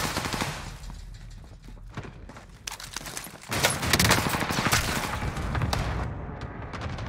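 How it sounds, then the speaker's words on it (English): Rapid SVT rifle fire in Call of Duty Warzone on Rebirth Island, with repeated sharp shots in quick bursts, dense and loud, continuing through the whole stretch. "didn't miss a shot with the SVT"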